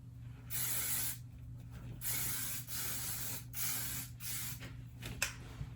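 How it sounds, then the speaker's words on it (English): Kenra Perfect Medium hairspray sprays onto hair in about six close, hissing bursts, each a second or less, separated by short pauses. "my Kenrab Perfect Medium Hairspray. And I just like kind of go ham with this"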